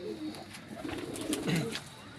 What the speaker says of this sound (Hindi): ये है गोल्डन कबूतर मेरे